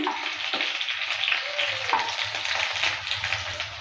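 Whole cumin seeds crackle and fry in hot oil in a pan, a steady close sizzle running throughout with a few faint stirring touches and no voices.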